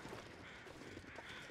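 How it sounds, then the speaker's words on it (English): Crows caw in the snowy wilderness of the survival game The Long Dark, a faint, steady call over a low ambient wind bed with no voices. "Hello, crows"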